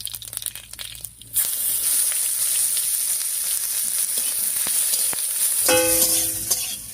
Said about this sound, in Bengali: ফোড়নের জন্য কড়াইয়ে দিয়ে দিচ্ছি গোটা জিরা, শুকনো লঙ্কা আর তেজপাতা।